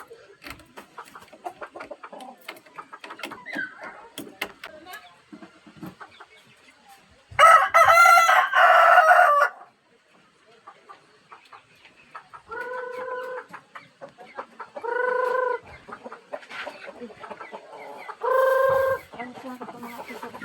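Chickens and roosters on a farm in the afternoon: a loud nearby rooster crow, then several more crows at intervals over soft clucking, scratching and background rustle.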